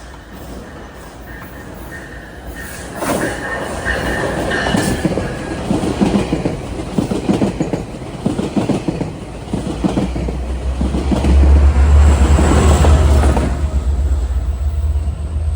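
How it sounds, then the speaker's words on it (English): GO Transit train passing westbound on the Stouffville line, a loud sustained rumble with rhythmic clattering wheels building as it nears and a deep low drone at the end. "Approaching westbound is a train from Mount Joy on the Stouffville line."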